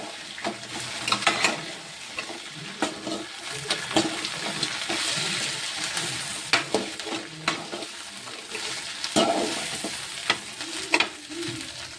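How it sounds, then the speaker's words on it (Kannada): A cabbage veg kebab mixture is stirred and mixed in a hot pan, giving a steady sizzle broken by repeated scraping, clattering spatula strokes, close up with no talking. "ಇದನ್ನು ಈ ರೀತಿ ಮಿಕ್ಸ್ ಮಾಡ್ಕೊಳ್ಳೋಣ"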